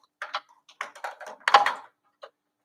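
A handheld lighter flicked repeatedly at a sewing table, giving a series of dry clicks and scratchy bursts in irregular clusters, some close together and one isolated at the end, with no talking.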